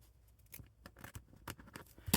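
Scissors snip through paper during vintage-style papercraft, a quick run of small crisp cuts close by, ending in a louder rustle of paper being handled.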